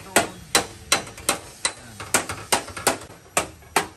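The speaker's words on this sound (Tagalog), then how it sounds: "Kung hindi pukpok dito, pukpok doon." Metal hammering in an auto body repair shop where collision damage is straightened, sounding as about a dozen sharp, ringing blows in a steady, slightly uneven rhythm, fairly close and loud, with no talk over it.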